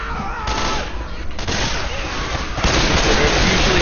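Rapid gunfire in the zombie shooter game Left 4 Dead 2, dense overlapping shots and bursts that continue throughout, growing louder near the end, with players talking underneath.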